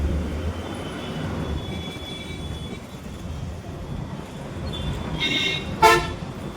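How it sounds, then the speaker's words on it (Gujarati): Rajkot city traffic rumbles steadily in the street, a low continuous drone with faint tones, then a sharp vehicle horn toots near the end. "આ રાજકોટની ટ્રાફિક"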